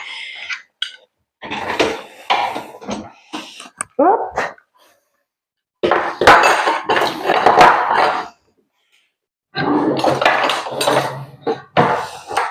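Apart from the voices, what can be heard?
unloading cutlery from dishwasher drawer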